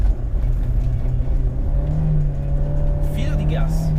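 A Honda S2000 engine hums on light throttle while drifting on a snowy mountain road, a steady low drone with a brief rising pitch near the end, heard close under a voice.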